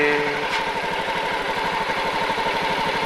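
A motorcycle engine idles while its idle and low-to-high RPM settings are adjusted, giving a steady, close, rhythmic low chugging with a slight mechanical clatter and no talk.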